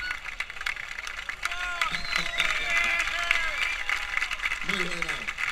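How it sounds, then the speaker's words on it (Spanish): A crowd at an aquatic enduro race podium claps and cheers for the winner, a scattered applause bed sitting under loud announcer-style talking and shouting voices throughout. "Fuerte, fuerte el aplauso."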